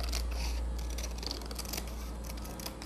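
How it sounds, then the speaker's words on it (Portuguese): Paper scissors cut through cardstock, a close, repeated crisp snipping and rasping over a low steady hum, with no voices. "com a tesoura de papel"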